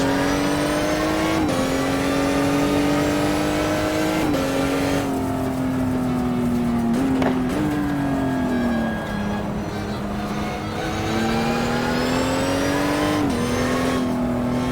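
Race car engine in the GTR2 PC racing game drones loudly and close, climbing through the revs with several brief dips at gear changes, steady throughout with no speech over it.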